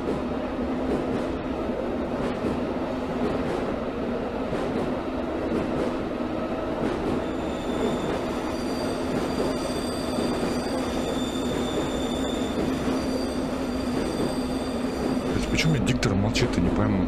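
A Moscow subway train in a video game simulator runs along the central line with a steady rumbling drone and rail noise, rising slightly with squeals and clatter near the end.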